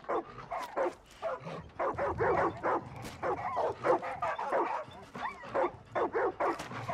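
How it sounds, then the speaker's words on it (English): Many dogs packed together in a Far Cry 5 building bark, yip and whimper in a dense run of overlapping calls, loud and near, continuing for several seconds with faint talk mixed in. "That's a huge amount of dogs."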